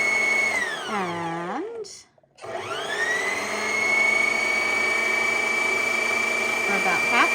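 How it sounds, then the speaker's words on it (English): Heavy duty Singer sewing machine winding a bobbin, a high, continuous motor whine that sweeps in pitch, cuts out briefly, then spins back up and holds a steady hum while someone talks over it. "we just push our foot pedal down, it winds our bobbin"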